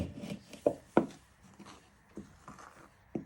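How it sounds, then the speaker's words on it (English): A spoon gently stirs flour and orange zest into white chocolate in a bowl, giving soft, scattered scraping taps with a few sharper knocks against the bowl at irregular intervals, close and quiet. "what you want to do is you want to give that a gentle stir"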